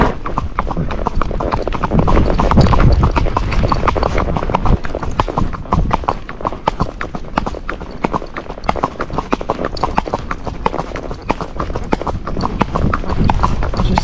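A Tennessee Walking Horse under saddle gaits with a quick, even clip-clop of hooves, steady and fairly close throughout, with a faint voice in the background.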